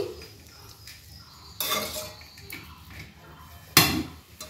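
A spoon stirs fried rice with ghee and white oil in a metal cooking pot, making scraping strokes and two sharp, loud clanks against the pot rim amid quieter rattles.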